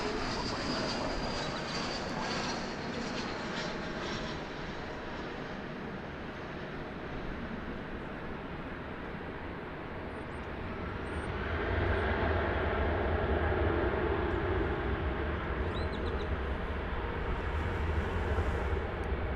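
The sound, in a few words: airplane at DFW Airport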